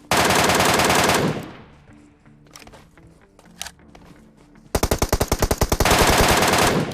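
Loud bursts of rapid automatic gunfire in a PUBG Mobile gunfight, with a lull of scattered single shots and clatter in the middle before another long, dense burst.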